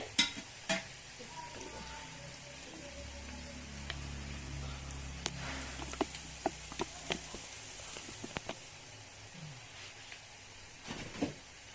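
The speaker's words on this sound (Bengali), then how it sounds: "এই দেখো বন্ধুরা রসুন হচ্ছে।" Garlic sizzling in oil in a pan while it is stirred, a steady low frying hiss with scattered sharp clicks and pops of a utensil against the pan, no voices.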